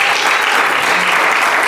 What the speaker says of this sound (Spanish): le doy un aplauso a Dios tremendo